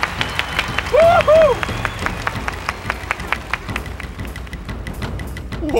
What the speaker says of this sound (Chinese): 掌声，掌声